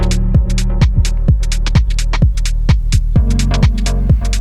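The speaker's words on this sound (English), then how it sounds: "if I put an echo device on here and I set the echo to 3/16 notes, dial in the feedback I want" A synth chord stab played through an Ableton Echo device set to 3/16 notes repeats in a swung, syncopated pattern, each loud hit followed by fading echoes over a steady low bass tone.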